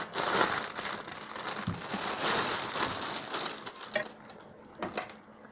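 Crinkly plastic crackles and tears up close as a package holding a sweatshirt is worked open, a steady rustling that thins out toward the end.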